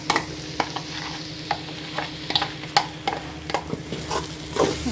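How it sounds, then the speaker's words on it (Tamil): Ground masala for a mutton curry, added over half-cooked potatoes, is stirred and lightly sautéed in a pan, with a soft sizzle under repeated scraping spoon strokes at an uneven pace. "மசாலா ஏற்கனவே வதக்கி அரைச்சதுனால நம்ம லைட்டாக வதக்கினா போதும்."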